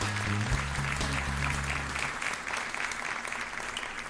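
An audience applauds on a radio talk show, steady sustained clapping throughout, with a brief musical tone fading out under it at the start.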